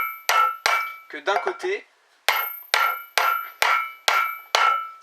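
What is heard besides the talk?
tapping wheel bearing into place with a tool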